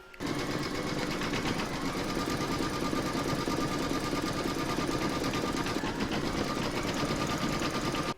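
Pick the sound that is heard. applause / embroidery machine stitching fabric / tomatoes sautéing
embroidery machine stitching fabric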